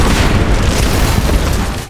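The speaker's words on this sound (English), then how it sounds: "The shockwave of the explosion destroys the fence" An explosion's shockwave tears through a farm fence, producing a loud, sustained deep roaring boom that fills the whole stretch before fading slightly at the end, with no speech.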